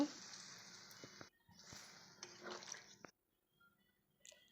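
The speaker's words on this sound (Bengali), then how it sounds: "এখন আমি জল দিয়ে দেব" Water poured into a pan of chana dal curry with soybean and potato, a close, splashing gush in two broken bursts that cuts off into near silence, with a brief faint trickle at the end.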